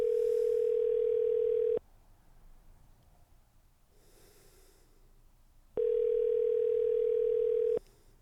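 An outgoing phone call rings twice, each ring a loud steady tone lasting about two seconds, with quiet pauses and faint rustling between the rings, before the call goes to voicemail.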